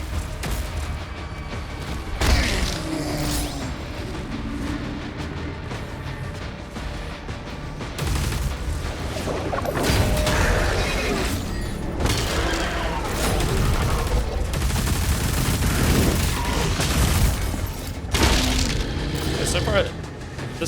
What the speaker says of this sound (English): So far, this gun seems to hit harder than the other guns